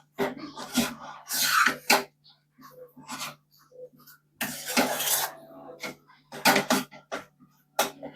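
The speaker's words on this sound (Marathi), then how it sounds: "हे सगळं मिश्रण मी मंद आचेवर परतते." Thick banana modak mixture is stirred and sautéed in a kadhai over a low flame, giving repeated scraping and sliding strokes in short bursts with quiet gaps between them.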